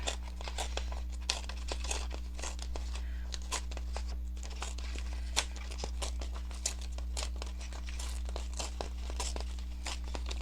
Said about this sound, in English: I think I'm going to tear it out all the way to here and then cut it out.